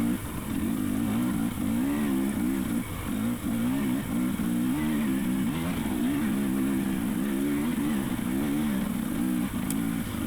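Husqvarna dirt bike engine revs continuously during a hare scramble race on a loose hill, its pitch wavering up and down with throttle, loud and near with wind buffeting throughout.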